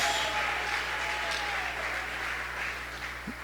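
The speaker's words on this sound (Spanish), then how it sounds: "Aplauda si quiere aplaudir." A congregation in a church applauds, giving a faint, steady wash of clapping that carries on throughout with no talking over it.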